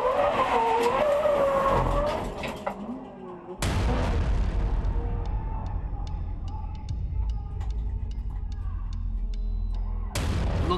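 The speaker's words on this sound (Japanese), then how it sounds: "最終コーナーをモンドに打って加速するマシン、この後壁に一直線。" A race car engine roars and strains at high revs accelerating out of the final corner at Tsukuba Circuit, then a sudden loud impact into a wall, followed by rumbling, clattering debris and another loud burst.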